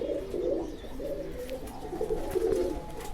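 Soft, low cooing of a female pigeon repeats in a steady murmur, close by, with a faint rustle in the background and no talking.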